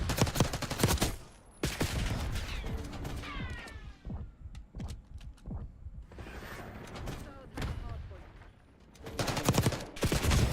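Rapid gunfire bursts from the video game Splitgate, a dense crackling fusillade that stops and restarts across the span, loud and close, with game effects and speech in the mix.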